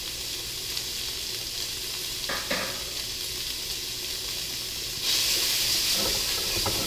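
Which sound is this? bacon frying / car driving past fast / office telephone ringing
bacon frying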